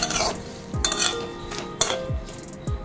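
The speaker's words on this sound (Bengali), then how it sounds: "মিনিট 3-4 সময় ধরে আলুটাকে আমি ফ্রাই করে নিচ্ছি" Potatoes frying in a pan with salt and turmeric, a close sizzling hiss broken by repeated scraping strokes of a spatula against the metal, several distinct stirring clacks over a few seconds, no talking.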